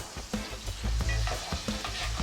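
Chopped garlic and butter sizzle and fry steadily in a single pan while being stirred, a close, continuous crackling hiss with no talking.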